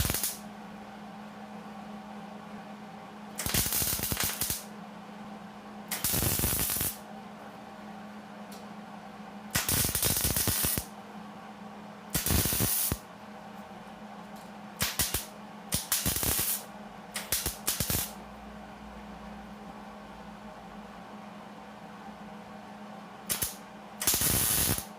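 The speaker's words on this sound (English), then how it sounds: "I'm gonna let this cool before I do any more welding on it." Welding on a bed frame, heard as repeated bursts of loud crackling, hissing arc noise lasting one to two seconds each, separated by quiet pauses, close up and without talk.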